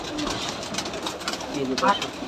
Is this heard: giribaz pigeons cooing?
yes